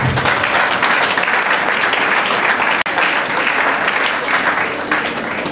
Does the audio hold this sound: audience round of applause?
yes